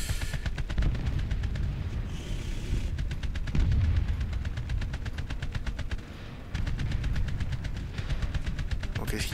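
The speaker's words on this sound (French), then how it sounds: "La mitrailleuse n'est pas précise" Machine gun fire from a Daimler armoured car in the War Thunder video game, long rapid bursts of rattling shots broken by short pauses, loud and continuous over engine rumble.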